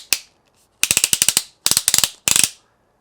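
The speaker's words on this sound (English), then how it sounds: "the clutches themselves, they actually sound great, except for this one Dewalt" The clutch on a Dewalt DCD999 drill ratchets loudly. One lone click is followed by three quick bursts of rapid, sharp mechanical clicking, each separated by a brief silence.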